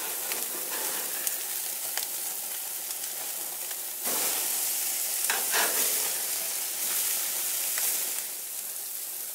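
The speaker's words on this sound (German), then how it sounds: "die Fleischpatties zu wenden." Flipped beef burger patties sizzle on a grill, a dense, steady hiss with brief crackling surges and a few faint clicks, close by and without speech.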